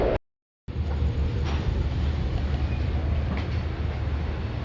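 The Gour Express rolls along at night, a dense, steady rumble and rattle of train wagons heard from inside, continuous after a brief silent gap at the start.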